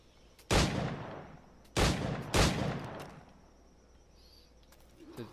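The Puckle gun in Assassin's Creed 4: Black Flag fires three loud, sharp reports close up. Two come in quick succession after the first, and a quieter tail follows.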